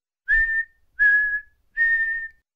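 A jester softly whistles three sustained notes in a row, each clear and steady, separated by short pauses of silence.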